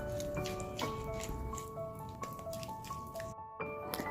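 Flour being mixed into egg batter for a strawberry crumble cake, soft wet squishing and dripping sounds repeating steadily at close range over a steady background melody.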